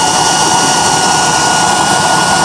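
Gas burner with a 28-hole nozzle roaring at full flame, a loud, steady, close rushing hiss that holds evenly without a break and with no talk over it.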